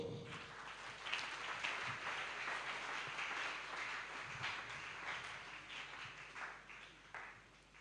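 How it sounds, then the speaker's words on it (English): Church congregation clapping during a Sunday service, a soft, distant, continuous patter of many hands sustained throughout and gradually thinning toward the end. "Are you clapping well?"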